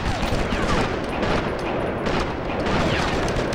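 Rapid gunfire from the PS2 game Sniper Elite, dense bursts of shots filling the scene continuously, loud and close, with a muffled rumble underneath.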